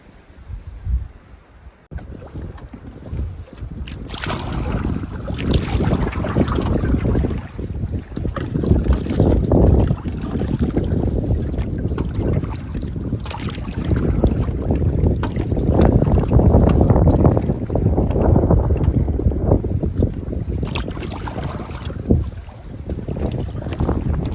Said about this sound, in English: Difficult with these wind gusts.